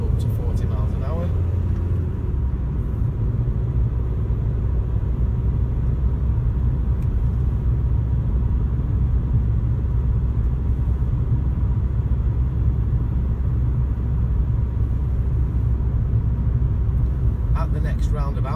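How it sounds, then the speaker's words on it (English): A car on a driving test route accelerates and changes up into third gear, a continuous low engine rumble with road noise heard from inside the cabin, while a voice talks over it. "accelerate. To third, squeeze in third, up to 40 miles an hour."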